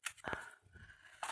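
Scissors trimming the tips of a small paper craft piece, an advent-calendar Santa's car model, in a few brief close snips separated by short pauses.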